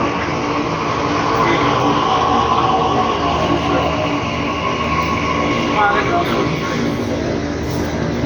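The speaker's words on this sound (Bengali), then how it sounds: "চলে আসছে মেট্রো জাস্ট এসে দাঁড়ালাম" A metro train rumbles loudly and steadily close by, a continuous heavy roar of wheels and motors.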